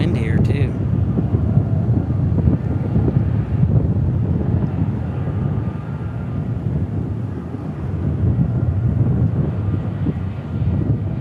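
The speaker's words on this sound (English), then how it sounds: "Getting some nice wind here" Strong wind buffets the microphone at DFW Airport, a continuous rumbling roar that swells and eases over several seconds, with faint jet noise blended into the steady gusting.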